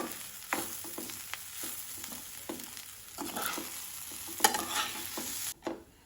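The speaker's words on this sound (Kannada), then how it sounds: "ಈಗ ಇದನ್ನು ಚೆನ್ನಾಗಿ ಮಿಕ್ಸ್ ಮಾಡ್ಕೊಳ್ಬೇಕು" Grated coconut gets stirred into idli upma in a pan: a spoon scrapes and pushes the mixture in short, irregular strokes, close and soft over a faint sizzle, ending with a few sharper scrapes.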